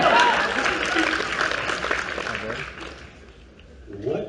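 Audience applause fills a comic con panel room at MCM Expo London, a dense wash of clapping that stays steady and fairly loud before thinning out, with voices mixed in underneath.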